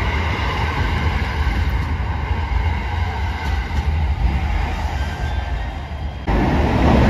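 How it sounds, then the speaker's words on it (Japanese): A JR Shikoku 5000 series Marine Liner rapid electric train bound for Okayama pulls in at Tokushima Station with a steady, loud rumbling rush that jumps abruptly louder near the end. "20時23分着5000系近郊型電車快速マリンライナー岡山"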